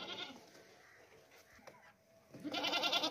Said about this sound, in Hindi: बहुत ही जबरदस्त बकरा है माशाल्लाह से